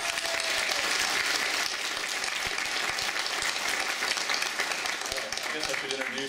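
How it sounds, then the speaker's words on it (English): A large audience at the 2012 City of Heroes player summit keynote breaks into sustained applause, a dense, steady roar of clapping that holds at full strength for about six seconds. "A huge round of applause for all you guys."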